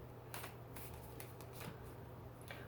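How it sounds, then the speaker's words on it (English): A deck of tarot cards being shuffled, a quick run of soft papery riffles and flicks, close but faint, with no talking. "this deck doesn't want to shuffle that well"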